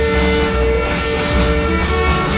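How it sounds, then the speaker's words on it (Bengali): The Darjeeling toy train rolls past near Batasia Loop, a loud continuous rumble of wheels and engine with steady tonal hums, close by throughout. "ট্রেনটি আসছে বাতাসিয়া লুপ থেকে।"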